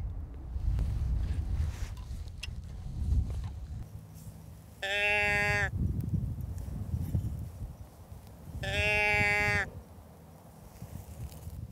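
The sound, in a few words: deer grunt call used while hunting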